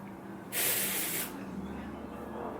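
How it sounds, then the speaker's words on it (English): Hair spray spritzed onto hair roots for a top knot bun, a single loud hissing burst under a second long, then quiet room tone. "if you feel like you need more, go ahead and spritz a little more."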